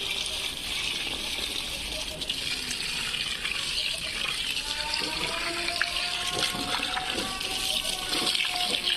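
Water gushes steadily over garden plants in pots, a loud, close, unbroken splashing stream with a few faint murmurs beneath it.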